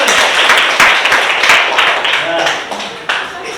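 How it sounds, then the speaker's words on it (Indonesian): Classroom applause from a group of students clapping together, loud and dense for a few seconds, with a voice briefly heard over it. "Oke, tepuk tangan semuanya."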